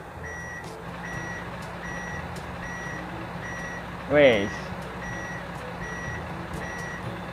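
A dump truck unloads sand in a mining truck simulator game. A steady reversing beep repeats over a low engine hum, and a brief sharp squeal stands out midway. The whole scene sits at a fairly low level.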